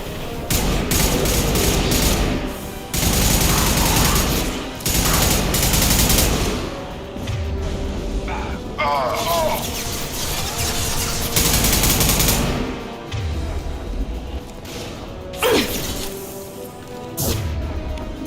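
Heavy gunfire in the video game Mass Effect 2, with loud sustained bursts of automatic fire and sharp impacts in repeated waves, plus a few whooshing crashes in a busy combat mix.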